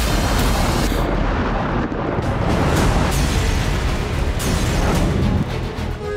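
Dense, continuous roar of heavy bombing blasts on Gaza and rumbling booms, loud and sustained with repeated sharp bursts layered throughout, no voices.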